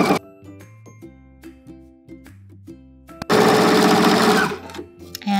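A sewing machine stitching a clear raincoat: first a few slow, separate clicks of the mechanism amid short tonal beeps, then a loud, rapid run of continuous stitching lasting over a second before stopping, close and alone.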